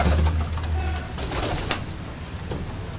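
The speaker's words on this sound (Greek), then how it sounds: "πέταξε και ο Θόδωρας στα περιστέρια του" Pigeons take off with a few sharp wing flaps and flutters amid soft cooing, close by and fairly loud over a low outdoor rumble.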